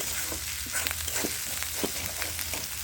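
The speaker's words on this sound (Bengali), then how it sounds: "পেঁয়াজ, রসুন আর আদা কুচি। এখন এটাকে আমি খুব ভালো করে কষিয়ে নেব।" Chopped onion, garlic and ginger masala fries in a pan during preparation of a yam curry. A low, steady sizzle is broken by soft scraping strokes of stirring, close and fairly quiet, with no talking.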